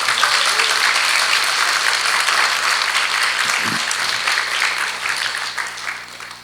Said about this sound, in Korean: 김성희 목사님 위해서 한번 격려의 박수를 한번 보내주시기 바랍니다